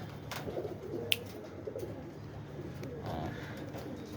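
Caged pigeons, males and females together, coo softly in low murmuring rolls that run steadily through the scene, with a sharp brief click partway and faint background noise.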